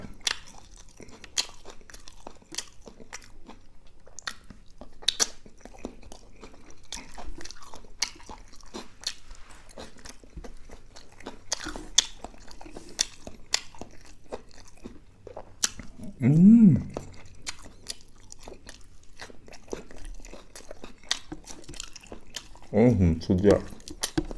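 Close, wet chewing and crunchy bites of spicy pounded Thai pork sausage salad with fresh homegrown vegetables. Scattered clicks and squishes lead to a couple of louder crunch bursts, with someone talking at times.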